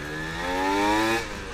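Kawasaki Ninja two-stroke motorcycle with a loud aftermarket exhaust revving close by, its rising harmonic engine note climbing and holding before easing off over about a second and a half.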